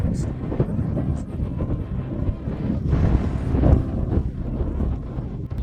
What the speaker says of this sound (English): suddenly there was a strong wind that just blows you off your feet